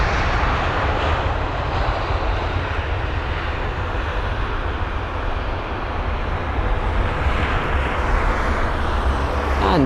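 Jet aircraft engines roar steadily at London Heathrow airport as a United Boeing 787-9 Dreamliner pushes back, a continuous broadband rumble with no voices over it.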